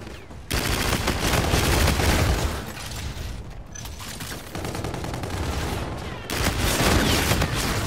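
Rapid automatic gunfire from Call of Duty: Infinite Warfare blasts in sustained bursts, loud and close, with short breaks between volleys and a dense, continuous crackle of shots.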